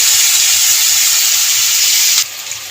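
White and black mustard, poppy seed and ginger paste hit hot tempering oil for Bengali shukto, giving a steady close hissing sizzle that drops off sharply near the end, with no voices.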